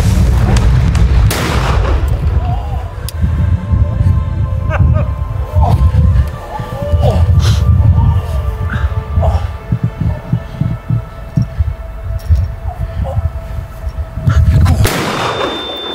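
Many gunshots crack out in a residential neighbourhood at night, a rapid irregular volley of sharp, loud bangs with booming low thuds, ending in a final louder burst.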